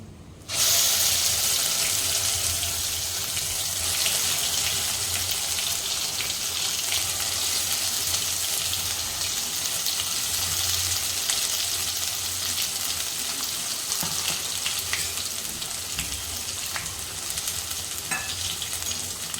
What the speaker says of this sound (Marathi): खडा मसाला मस्त फ्राय झाल्यानंतर हा मी जो वाटलेला मसाला होता तो घालून घेते.